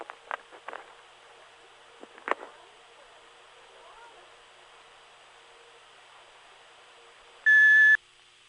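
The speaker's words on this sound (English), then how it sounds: "If you wish to leave a message, please do so at the sound of the tone." A single electronic answering machine beep sounds after quiet room noise and a few soft knocks, a short loud steady tone lasting about half a second near the end.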